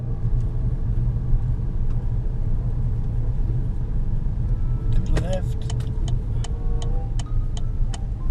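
A manual-transmission car driving in second gear, a steady low engine rumble heard from inside, with light rattles and faint clicks toward the end and voices talking over it.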